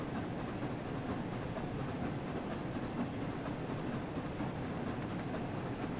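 The Flying Scotsman steam locomotive running at around 40 mph in Train Sim World 4, a steady, unbroken rumble and rolling rail noise, loud and close with no pauses.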